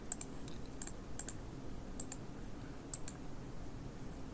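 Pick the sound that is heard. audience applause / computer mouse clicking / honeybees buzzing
computer mouse clicking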